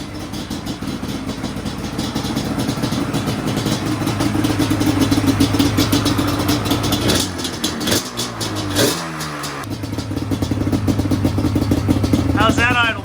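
A 2002 Yamaha Banshee two-stroke engine idles steadily close by, with a brief dip and blip partway through.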